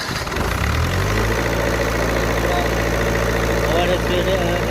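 A Miller diesel welding machine's engine runs loud and close after starting, settling into a steady, heavy droning idle with a low rumble throughout.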